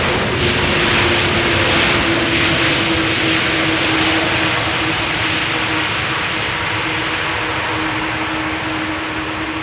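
A nine-year-old Airbus A330 jet airliner roars steadily with a broad, loud engine rush and a low droning tone, sustained throughout as it departs Schiphol's Polderbaan runway.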